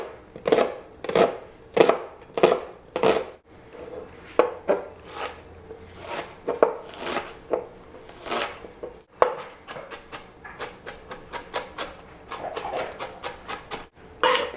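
A knife chops and minces onion on a cutting board for guacamole, with steady close rhythmic thuds at first, then a pause and faster, lighter rapid taps toward the end.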